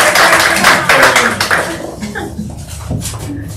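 Meeting audience applauding at a real estate team meeting, a steady wash of many hands clapping that is loud at first and then thins out and fades over a few seconds.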